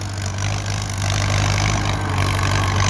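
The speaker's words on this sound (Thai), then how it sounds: "เดี๋ยวคลิปนี้เขากลับมาเบิ้งรถไถฟอร์ดครับผม" A Ford 6600 tractor's diesel engine runs with a strong, steady low-pitched drone, rising slightly in intensity partway through, close and loud with no talk.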